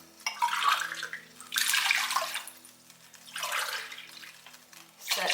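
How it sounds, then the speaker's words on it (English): Water from measuring cups pours into a wide-mouthed heavy-bottomed pan in several separate bursts, a close splashing rush that rises, fades and returns about three times. "Add in 4 cups of water."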